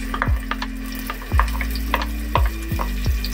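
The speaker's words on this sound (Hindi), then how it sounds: "प्याज को गोल्डन ब्राउन होने तक फ्राई करना है" Onions frying in about half a cup of hot oil in a pan, with a steady broadband sizzle and repeated low scraping stirs at a loose rhythm, close and moderately loud, with no talk.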